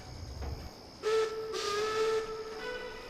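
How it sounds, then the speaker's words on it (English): A train whistle sounds a long sustained tone with a hissy edge, starting abruptly after a quiet moment and holding steady to the end. "Just then, a third whistle was heard."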